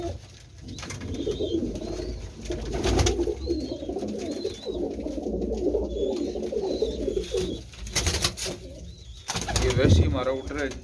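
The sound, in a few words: Teddy pigeons cooing and flapping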